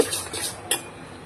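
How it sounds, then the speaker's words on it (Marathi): Buttermilk being stirred into a ground paste in a bowl with a spoon, giving soft scraping and clinking against the bowl and one sharper clink partway through, fairly close and quiet. "मिक्स करून घ्यायचं"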